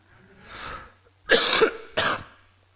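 A preacher coughs during a church sermon: one soft throat sound, then two sharp, close coughs in quick succession.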